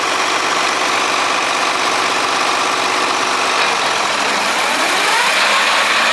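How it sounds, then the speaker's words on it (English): Farm tractor engine running at idle, a loud steady mechanical drone with a regular low throb that shifts slightly near the end. "this is the only tractor we got, so I might have Andrew kick it on"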